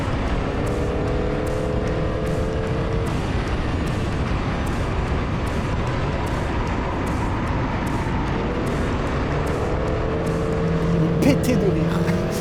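A Renault Scénic race car drives on a race track, its engine a continuous loud drone with shifting pitch as it revs, and voices talk over it.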